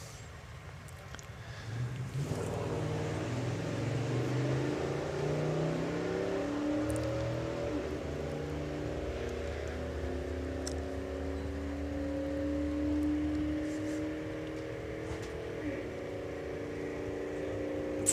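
Drag racing cars, a Camaro among them, making a run at the STP National Finals, with a loud, steady engine roar starting after a quiet opening and holding for the rest of the run.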